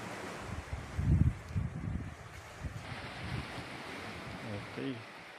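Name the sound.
sea waves at the shore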